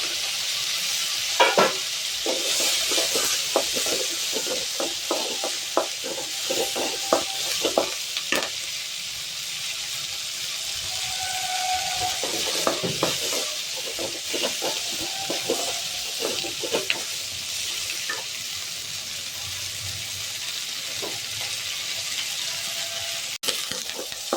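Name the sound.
frying onion, garlic, dried chilies and curry leaves in pan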